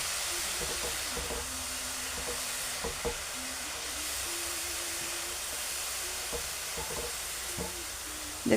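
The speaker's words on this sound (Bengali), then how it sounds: "আর গাজরটা এরকম হালকাভাবে ঘি দিয়ে ভেজে নিতে হবে।" Grated carrot fries gently in ghee over a medium gas flame for gajar halwa, giving a steady soft sizzle and hiss with occasional light scrapes and clicks of stirring.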